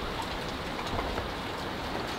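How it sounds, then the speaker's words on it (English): Steady rain falls over a farm paddock, a dense, even hiss of drops on surfaces that holds at constant loudness throughout, with no voices. "it's still raining."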